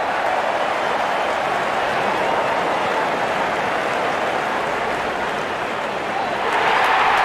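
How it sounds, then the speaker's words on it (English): Steady, dense applause from a stadium crowd in the Real Cricket video game fills the whole stretch, swelling slightly louder at the very end. "Wonderful 50, and the crowd applauds."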